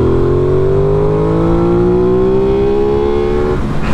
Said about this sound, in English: let's drop it down a gear and let's just see what these revs sound like